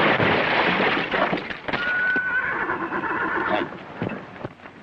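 A horse whinnies through a noisy 1931 dude ranch film soundtrack, a loud, rough neigh amid crackle and hiss, heard close with no speech over it.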